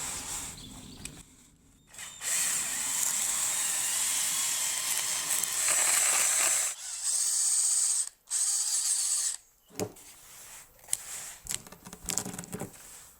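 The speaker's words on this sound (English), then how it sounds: "For mixing, I'm going to use this cement mixer." A cement mixer churns casting green sand with water, its drum giving a loud, steady mechanical rattle and grind in long stretches broken by brief pauses and stops.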